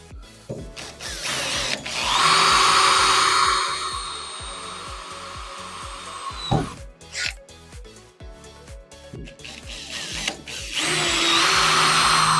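A power drill bores holes into a horse trailer being converted into a pizza trailer, running in sustained loud bursts with a short pause between them, close by and with no talking.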